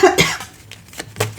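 A short, sharp cough is followed by a few fainter throat sounds, close and dry, in a quiet indoor setting.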